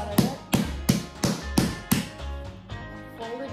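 Bread dough is knocked down by hand on a kitchen surface: about six firm, evenly spaced thumps, then softer pressing and patting sounds.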